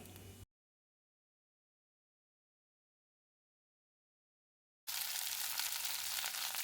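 Okra frying with nigella seeds in a pan: a short burst of sizzling, a long silent gap, then a steady, loud, close hiss of frying that continues to the end.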